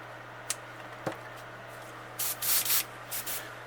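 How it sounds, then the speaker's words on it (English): An airbrush fires a few short test bursts of spray onto a paint booth wall, preceded by faint clicks, each hiss sharp and close with brief gaps between. "I always test spray on the wall of my booth."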